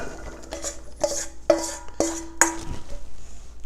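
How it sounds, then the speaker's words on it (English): Prepared vegetables for hunter's stew going into a crock pot: a series of bright clinks and ringing taps as a metal utensil strikes the ceramic pot, about six distinct knocks, close and clear. "I'm going to put the ingredients that I prepared, here's the vegetables,"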